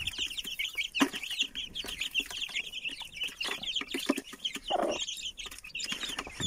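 Chickens clucking while eating feed in a coop, a busy, overlapping chorus, fairly close, with sharp calls and occasional louder squawks throughout.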